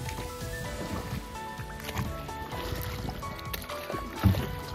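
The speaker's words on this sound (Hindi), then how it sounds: "देख सकते हो यहाँ से भाई लोग फुल्ली चलाते हुए नाव को" Wooden boat rowed on a river at Donga Ghat, Padampur, Odisha, its oars churning and splashing the water steadily and close by, over a busy outdoor background with no voices.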